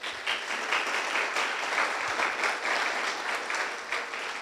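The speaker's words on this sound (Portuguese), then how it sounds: "Vamos aplaudir essa palavra?" A church congregation breaks into steady, sustained applause, a dense wash of many hands clapping that holds at an even level throughout with no talking over it.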